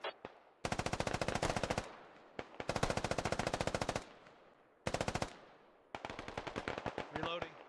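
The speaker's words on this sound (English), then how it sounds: "they are just laying down the fire into these buildings, not going to allow the British to peek anything" Bursts of automatic gunfire in Squad poured into buildings, several long rapid strings separated by short pauses, loud and close, with a brief voice near the end.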